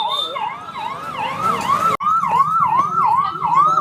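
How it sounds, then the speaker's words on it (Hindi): Ambulance siren wailing on a street in Raghunathpur, a loud rising-and-falling electronic tone repeating rapidly and close by, with road traffic rumbling underneath. "हाँ, उधर थोड़ा एम्बुलेंस को जाने दीजिए।"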